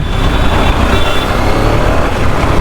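Busy roadway traffic as a continuous, loud wash of passing cars, trucks and buses, a dense engine rumble and road roar with no break, heard close by.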